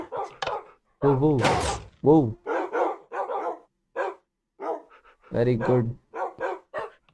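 Dogs bark in the Minecraft video game near a stable, with several sharp, loud barks in separate bursts and someone talking between and over them.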